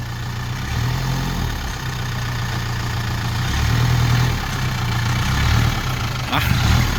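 An old pig-pen style pickup truck engine idles steadily with a low, even rumble, holding a constant throb for several seconds with a brief sharp click near the end and no voices.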